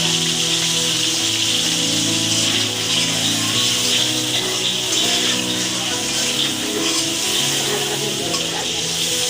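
Potatoes frying in a pan with a little turmeric and salt give a steady, continuous sizzling hiss that holds evenly throughout, with a faint tonal hum running underneath.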